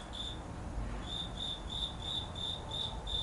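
Crickets chirp in steady repeated pulses at a high pitch over a soft background hiss, with a brief pause near the start before the rhythmic chirping resumes.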